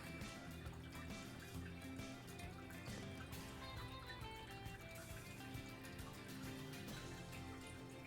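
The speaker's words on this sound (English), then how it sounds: "And I have a little waterfall here for the backdrop" Small waterfall in a Planet Zoo primate habitat trickles and splashes faintly and continuously under soft background music.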